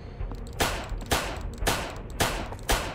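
Gunfire in the horror video game Dead Beacon, five loud evenly spaced shots about half a second apart, each with a sharp crack and brief decay.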